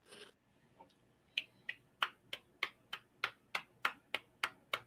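About a dozen sharp hand claps land in a slow, even rhythm, close and crisp against a quiet background, following a short burst of talk at the start.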